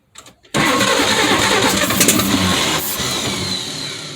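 An abandoned 1953 Chevy 3100 engine cranks briefly, then catches and bursts into a loud, rough run. It settles into a steady, slightly uneven roar close by.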